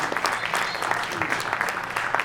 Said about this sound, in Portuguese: Salve de palmas para